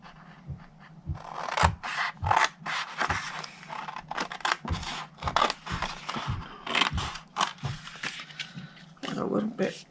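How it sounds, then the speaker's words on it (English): Scissors snipping through cardstock along a score line while making a Valentine's treat box, a run of short crisp cuts and rasps close by, with a voice talking over the work. "we're going to cut to the first score line, and then we're going to take 1, 2, 3 rectangles right off"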